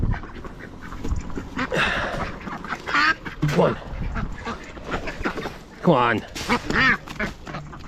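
Ducks quack repeatedly at close range as they are herded out of a corner of a farmyard pen. A voice keeps urging them along over the calls.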